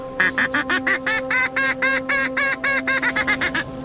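A duck call imitates a mallard hen's greeting call on a lake: a loud, near series of about seventeen evenly spaced nasal quacks that speed up slightly toward the end.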